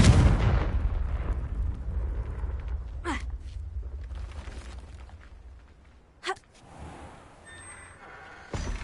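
A fiery Confringo spell blast in a Hogwarts video game, a loud booming burst at the start that rumbles and fades, followed by a couple of sharp whooshing hits and a faint ringing tone, with no talking.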